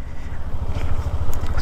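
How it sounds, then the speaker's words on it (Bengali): A vehicle's engine held in engine braking while it creeps down a steep, broken, rough hill road, heard as a low, loud, throbbing rumble that bumps and pulses steadily throughout. "আমাকে ইঞ্জিন ব্রেকে নামতে হচ্ছে"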